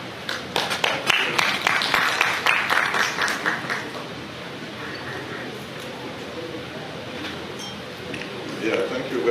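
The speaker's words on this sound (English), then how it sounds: "Another round of applause." Conference audience at an annual scientific meeting applauding, a burst of close, distinct claps for a few seconds that fades into a quiet room hum with faint murmuring.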